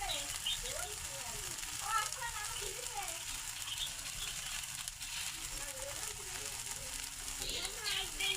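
Spice paste for shing fish bhuna sizzles and crackles steadily in a hot pan, a close, continuous frying hiss with small pops and faint scraping throughout.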